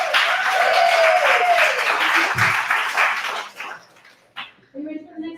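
A comedy night audience claps in a loud, broad wash of applause that fades out after a few seconds, and a voice then talks over the quieter room.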